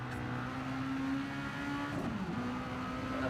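A race car in a racing video game drives on throttle, its engine note holding a steady drone before a brief rise and dip near the end, loud and continuous with no talk.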